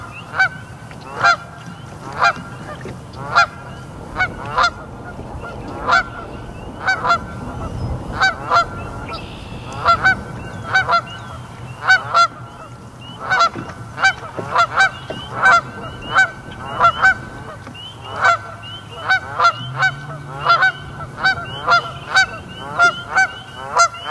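Geese honk repeatedly and loudly near their nest beside a lake, a busy run of sharp, overlapping calls lasting throughout with a low background rumble underneath.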